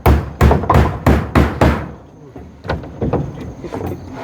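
Hammer strikes while laying floor tiles: six heavy, evenly spaced blows land close by, then lighter, irregular taps follow, with a faint voice now and then in the background.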